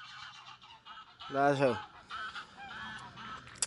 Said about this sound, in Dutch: die ganzen die maken een beetje veel lawaai.